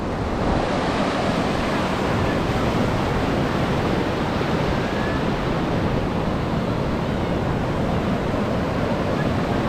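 Surf rolls in steadily on the steep, sloping sand of Vagator Beach in North Goa, a loud continuous wash of breaking waves with wind rushing across the microphone throughout.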